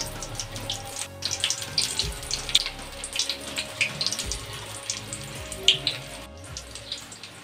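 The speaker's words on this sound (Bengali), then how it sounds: "সবগুলোই আমি একসঙ্গেই ভেজে নিলাম।" Crab brain chops fry together in hot soybean oil over medium heat, giving steady sizzling and bubbling with frequent crisp pops and crackles, near and moderately loud, with no talking.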